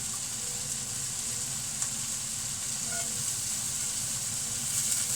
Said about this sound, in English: we're going to whack in the onion now.